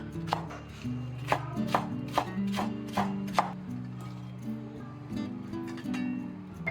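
A knife chopping green and red chili peppers on a board, about a dozen sharp, evenly paced close knocks over a low hum, with no talking.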